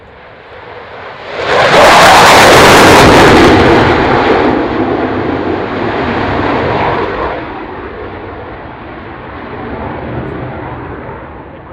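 Military jet taking off at the Fairford airshow, a loud roaring engine blast that swells in quickly, peaks, then slowly fades into a long rumbling wash of sound as it departs.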